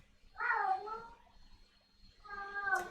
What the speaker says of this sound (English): that's my cat, not your cat